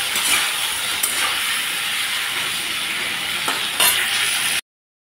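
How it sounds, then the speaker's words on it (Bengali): Potatoes frying in a pan with a little turmeric and salt, a loud continuous hiss and sizzle with occasional stirring scrapes, close up, ending abruptly in silence. "আলুটা সুন্দর লাল লাল করে ভেজে নিলাম।"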